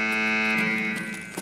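Loud, steady alarm tone in the video game Escape From Tarkov, a sustained buzzing siren with strong harmonics that holds throughout and fades slightly near the end, with no talk over it.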